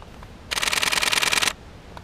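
A Canon 7D Mark II shutter fires a continuous burst at 10 frames per second, a fast, even, crisp clatter lasting about a second in a quiet room.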